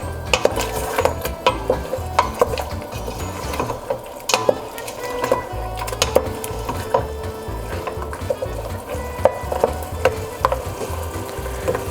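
Beef being fried and stirred with yogurt and spices in a pot, dominated by rapid, loud metallic scraping and clanking of a ladle against the pan over a low sizzling bed, with no talking.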